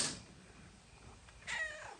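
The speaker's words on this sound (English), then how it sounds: "Panicking cat." A cat gives a short, strained meow near the end after a faint opening rustle, close and fairly quiet in an otherwise still garage.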